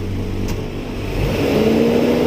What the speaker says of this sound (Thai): อ่ะพ่อเร่งเครื่องนะ เร่งเลย